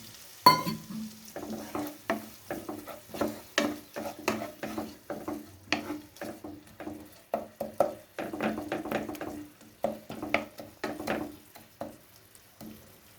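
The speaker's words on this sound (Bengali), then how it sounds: "মশলাটা একটু ভাজা ভাজা হয়ে গেছে, আমি একটুখানি এর মধ্যে জল দিয়ে দিচ্ছি" A spoon stirs spice paste frying in a pan with water added, while cooking a banana flower (mocha) dish. Repeated scraping strokes come in an uneven rhythm over a soft sizzle, close and clear, with no talk.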